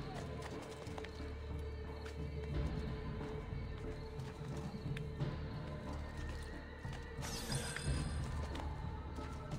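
Hoofbeats of a galloping horse in Assassin's Creed II run under a dense, busy game soundscape. A brief horse whinny rises near the end, and a voice can be heard faintly.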